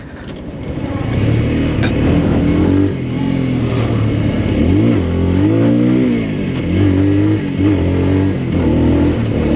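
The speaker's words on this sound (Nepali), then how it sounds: "मलाई यो बाइकमा जुन चाहिँ त्यो इन्जिन रेभ हुन्छ नि" A Hero Dominator 250 motorcycle engine, a Honda CRF-style bike, revs up and down repeatedly close by, its pitch rising and falling in several strong sweeps with a steady idle underneath and no talking.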